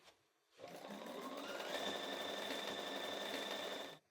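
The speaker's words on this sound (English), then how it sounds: "I'm going to sew this corner to corner" A sewing machine stitches a quilt block corner to corner in one steady, close run of about three and a half seconds, starting and stopping abruptly with quiet on either side.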